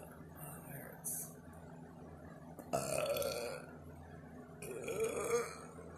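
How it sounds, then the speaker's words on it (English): A person burps loudly twice, a first burst near the middle and a second rougher one toward the end, close to the mic against a low room background; the person is chewing gum and also has hiccups. "This is why I don't like doing hiccup and burping."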